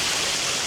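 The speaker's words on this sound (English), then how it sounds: "Nice waterfall there." A town waterfall in Bolton pours steadily, a dense, fairly loud rush of falling water that stays even and unbroken with no one speaking.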